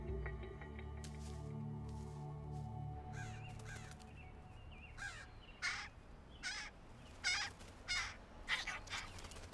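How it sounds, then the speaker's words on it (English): Crows give a run of harsh, rasping caws, spaced irregularly and fairly close. They grow louder toward the end and follow a low, sustained hum. "Crows have different warning calls, one for cats and one for hawks and another for humans."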